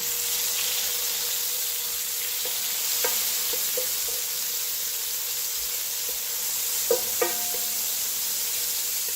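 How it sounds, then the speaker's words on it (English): Garlic and olive oil sizzle softly in a hot pan, a steady faint frying hiss with a few light clicks and scrapes of stirring, no voices. "Cook up a little bit, just to coat the pan with the olive oil and the garlic flavor."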